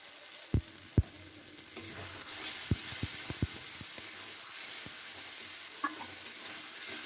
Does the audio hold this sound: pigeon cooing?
no